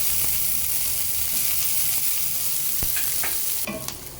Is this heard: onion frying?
yes